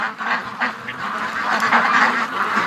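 A group of ducks raised for charity quacks and honks nearby in a busy, overlapping chorus of repeated calls, with no talk.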